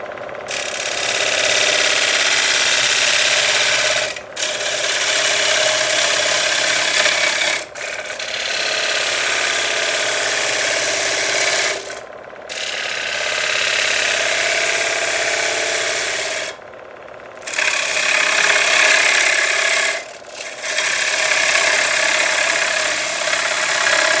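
A wood lathe spins a green black walnut bowl at just over 1,000 RPM, giving a loud, steady broadband whir and rub that dips briefly in a few spots, with no voices.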